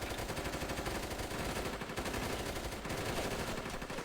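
Dense, continuous automatic gunfire from a tactical military shooter game rattles on without pause, loud and close, with rapid overlapping shots and no talk.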